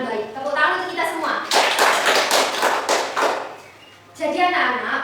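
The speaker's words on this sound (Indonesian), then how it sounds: "Tepuk tangan untuk kita semua." Students in a classroom clap together in a short, lively burst between stretches of a teacher talking.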